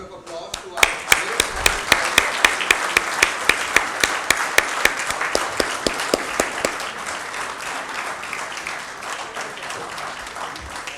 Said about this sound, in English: Ladies and gentlemen, can we give a round of applause to our